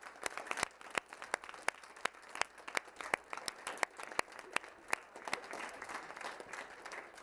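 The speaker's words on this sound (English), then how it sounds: "Let's give everybody a round of applause." Audience applause follows a community theatre performance of It's A Wonderful Life, a steady round of clapping from a crowd, fairly soft, with sharp individual claps standing out through the patter.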